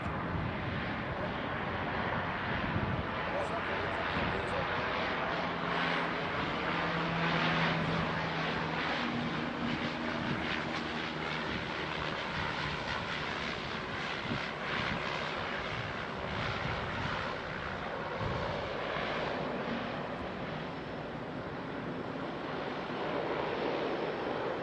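A seaplane takes off over open water, its engine drone mixing with steady wind and surf noise throughout, loud and continuous with a low rumble swelling in the middle.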